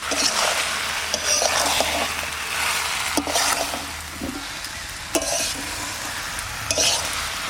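Prawns frying in a pan as they are stirred, with a steady bright sizzle and the scrape of a utensil against the metal. Soft knocks come every second or so, close and continuous.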